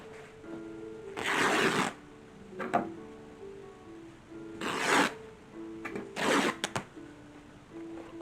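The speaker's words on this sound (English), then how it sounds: "So again, we're going to rip our panels." Fabric panels for a mid-19th-century silk dress hem facing being ripped by hand, three sharp tearing bursts of one to two seconds each separated by quieter pauses, close and fairly loud.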